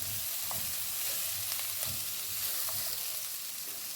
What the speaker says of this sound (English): I'm going to fry this for additional 2 minutes.